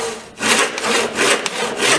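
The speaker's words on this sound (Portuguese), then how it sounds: "O serrote, ele serra para baixo." A hand saw rasps through wood in quick, even back-and-forth strokes, close and loud, each stroke a rough scraping burst.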